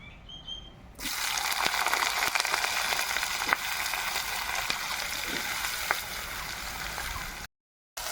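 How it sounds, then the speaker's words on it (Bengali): Taro stolons (kochu loti) frying in hot mustard oil, a steady loud sizzle that starts abruptly after a quiet second and continues with small crackles, then cuts off briefly near the end. "এবার প্রথমেই আমি লতি ভেজে নেব"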